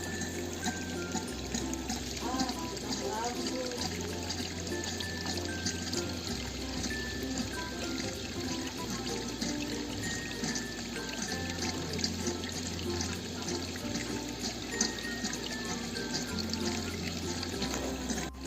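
Water flows steadily through an aquarium sump filter's overflow pipe, a constant close rushing and gurgling wash that holds level throughout with no voices.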